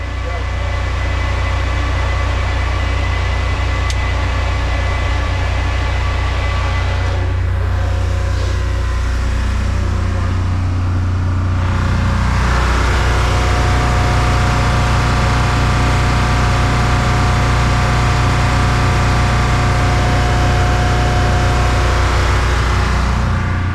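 An abandoned, restored old generator engine runs at a steady, loud, continuous drone with a deep low hum throughout, a brief shift in tone midway, and people talking faintly over it.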